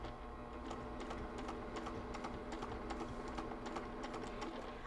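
A sewing machine with an open toe foot stitches slowly around a cross stitch zippered pillow, giving a faint, steady mechanical whirr with quick rhythmic clicking, quiet and close, with no talking.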